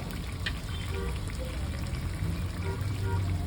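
Ground coconut paste poured into a pot of meat curry on a home stove, a soft wet pour and gentle sizzle with faint stirring, quiet and close, without speech.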